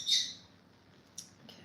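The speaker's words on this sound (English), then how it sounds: "I guess we just hear them all the time, so I don't even notice that they're chirping" Birds chirp outdoors, with a bright squawking call up front followed by two shorter, fainter chirps over a quiet background with no talking.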